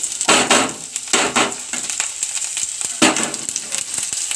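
Food frying in a pan until golden brown, a crackling sizzle that rises in several loud bursts and eases between them, close and without talk.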